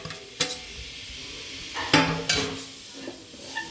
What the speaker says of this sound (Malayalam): എന്നിട്ട് ഇളക്കി കൊടുക്കാം.